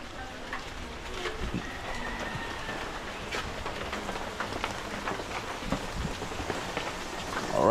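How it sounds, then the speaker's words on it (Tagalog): Steady rain patters on a surface with scattered drops and a continuous hiss, fairly soft and constant throughout. "at maulan pa rin"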